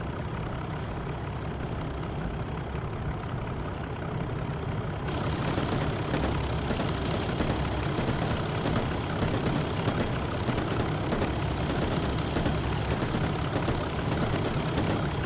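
Diesel locomotive engine idling in Train Simulator 2021 on the Kyle Line: a steady, unbroken low throbbing drone at moderate volume that brightens slightly partway through, with no speech.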